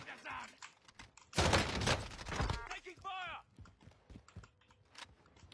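Bursts of gunfire in a first-person shooter video game, a loud dense volley in the middle with sharper scattered shots around it, under faint talk.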